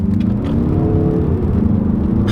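A 2022 Mazda 3 Turbo Premium Plus with all-wheel drive accelerates hard, its engine whirring and rumbling loudly from inside the cabin in one sustained surge.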